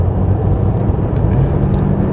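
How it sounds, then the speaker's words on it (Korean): A 2021 Mercedes-Benz S 400 d AMG Line diesel accelerates on a concrete road, giving a loud, continuous low rumble of engine and tire noise from inside the car, with no voices. "이 400D는 그 구간에서 이렇게 가속을 해도 엔진 소리가 그렇게 크지가 않습니다"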